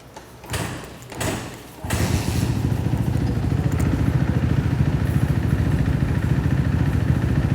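A motorcycle fitted with an FMF Mega Bomb header and a Q4 exhaust gives a couple of thumps, then fires and settles into a steady, close, throbbing idle.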